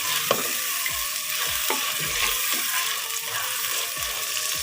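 Mixed vegetables sautéing in a pan over a medium flame, dhaba style, with a steady close sizzle and repeated scraping, stirring strokes throughout, no voices.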